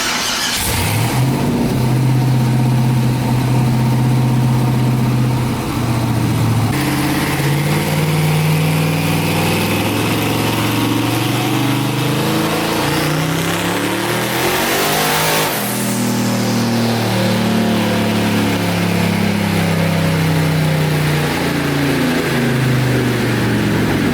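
1000-horsepower Ford Ranger street pickup running hard on a dyno, a loud sustained engine roar climbing in pitch, then dropping sharply as it downshifts and rising again through the gears.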